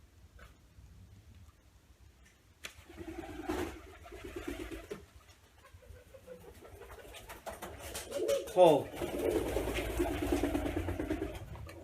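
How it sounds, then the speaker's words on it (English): Pigeons coo softly in the background while a man gives a dog short commands, a few low murmuring calls rising near the end. "Ignore the pigeons, bro."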